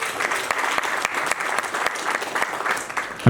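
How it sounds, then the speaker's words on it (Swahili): An audience at a Mulembe unified gathering in Kakamega claps steadily for the chair lady, a dense, continuous round of applause filling the hall without pause. "Makofi kwa chair lady."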